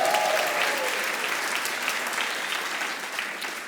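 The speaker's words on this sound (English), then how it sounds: "give them a big cheer too" A live audience bursts into sustained applause and cheering for grandchildren in the house, a dense, loud wash of clapping that tapers slightly toward the end.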